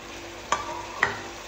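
Meat with ginger garlic paste frying in a pan, giving a steady sizzle broken by two sharp scraping stirs about half a second apart, close and alone with no voices.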